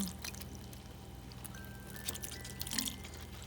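Water poured onto a houseplant during spring plant care, a steady faint trickle and splash running for several seconds with a few drips, close by and alone.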